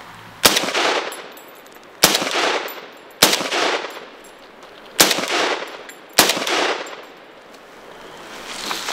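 Five loud, sharp rifle reports from a SCAR 20 in .308 fired in a rapid mag dump, each shot trailing off in a long echoing decay, spaced roughly every one and a half to two seconds with no talking.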